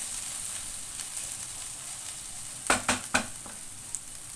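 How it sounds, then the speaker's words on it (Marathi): Okra sabzi sautés in a pan with a steady, soft sizzle, broken by a few quick clinks and scrapes of a stirring spoon, heard close and alone. "दोन मिनिटं अजून परतून घ्यायचं"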